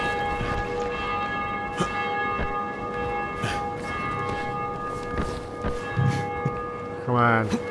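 Church bell ringing at nightfall in the video game Dying Light, tolling in slow, evenly spaced strikes over a humming ambient background, with a brief louder game sound near the end.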